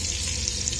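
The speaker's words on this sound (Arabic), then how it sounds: "وهندي تشويحه للحمه علشان نقفل المسام بتاعتها" Beef pieces searing in melted butter in a pot: a steady, dense crackling sizzle, close and fairly quiet, continuous over a brief moment with no talk.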